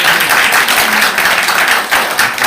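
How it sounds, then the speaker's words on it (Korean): A small audience at a lawyer's lecture in a Yangpyeong pension hall claps together in a steady, close ripple of hands that holds evenly for a couple of seconds. "우리 박수 한번 칠까요?"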